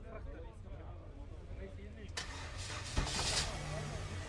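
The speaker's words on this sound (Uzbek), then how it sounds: "Ana motor ishlaydi." A used car at a market, fitted with a newer 2021 engine and a factory propane setup, cranks and catches midway through, then runs steadily at a close idle. People talk around it throughout.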